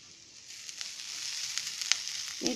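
Grated coconut roasting dry in a pan for a chutney to serve with dosa and idli, giving a steady soft sizzle with a few faint scrapes and a small clink at the end, no voices.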